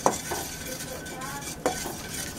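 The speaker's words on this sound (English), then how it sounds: "I got a good gumbo roux going here" Spoon scraping and knocking against a pot while stirring a gumbo roux, two distinct clinks at the start and near the end over a soft continuous sizzle.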